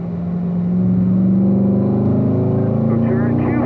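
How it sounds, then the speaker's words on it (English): A car engine on a race track drones loudly and steadily with a rising pitch, heard close up from inside. "Downshift to 3rd gear"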